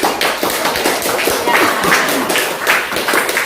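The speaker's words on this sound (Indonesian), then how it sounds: "Beri tepuk tangan dulu tadi sudah" A class of children clapping for a classmate in an Indonesian primary school lesson, a busy patter of small hands with some chatter and thumps mixed in, steady and fairly close throughout.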